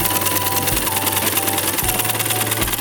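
A sewing machine stitches the edge of a kapok mattress cover, whirring in a fast steady rhythm broken into short runs by brief pauses, close and loud with no talk.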